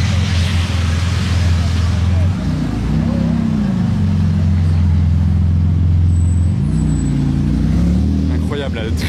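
Two Porsche GT2 RS supercars, one red and one green, drive past one after the other with loud, rising and falling engine notes that hold strong throughout, while a person talks over them.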